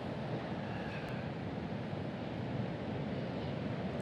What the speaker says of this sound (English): The ocean is not far away.